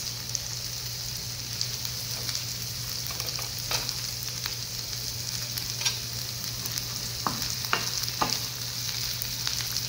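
Bheja fry cooks in a pan with coriander and mint leaves, giving a steady sizzling hiss with occasional soft stirring taps and scrapes, and no one speaking.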